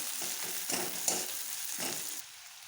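Onions sizzle in a pan as the base for a bhola fish curry, a soft steady frying hiss with a few stirring strokes scraping through it, close and fairly quiet.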